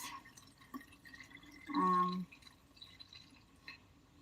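Homemade wine poured from a large container into a smaller one before bottling, a brief gurgling splash of liquid lasting about half a second amid quiet room sound.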